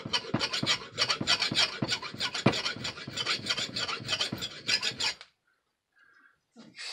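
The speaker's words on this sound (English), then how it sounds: "give it a couple more passes with the file" Metal file rasping on a Lionel KW transformer whistle lever, about a dozen steady, rhythmic close-up strokes for five seconds, then near silence with a faint clink.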